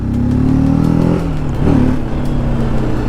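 A TVS Apache RTR 310 motorcycle revs and accelerates hard, its loud engine note rising in pitch, dipping briefly at a shift, then climbing again, heard close with wind rush.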